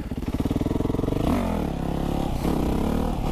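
A motorcycle engine pulses loudly up close, then climbs in pitch as it revs hard through a gear change during a slow wheelie.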